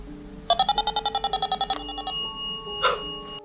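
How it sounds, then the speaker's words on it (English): A ghost bell EMF detector sounds a rapid series of about a dozen bright electronic pulses, then a sustained tonal ring with a brief louder chirp near the end, close and clear with no talking. "the ghost bell detects EMF fluctuations, so the fact that there was an orb kind of zipping by right as it went off"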